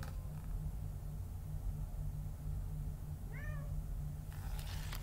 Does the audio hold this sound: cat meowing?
yes